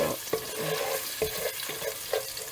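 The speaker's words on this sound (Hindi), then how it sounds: "ये मिर्चें भी अब फ्राई हो गई हैं इसमें।" Chilies frying with vegetables in a pan for Chinese-style chicken and rice, a continuous sizzle broken by regular scraping stirs of a spoon, close and fairly loud, with no voices.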